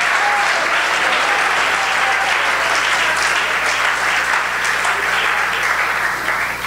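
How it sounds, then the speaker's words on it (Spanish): A church congregation claps loudly and continuously in praise during a Spanish-language sermon, a thick sustained wall of applause with no break, with a faint low hum running underneath. "Dele fuerte ese aplauso al Señor."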